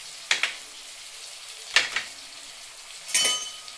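Tempering spices sizzle in a pan with tomato, curry leaves, carrot, turmeric and cumin as they are stirred in three quick bursts of scraping and frying, each rising briefly then fading, with no talk.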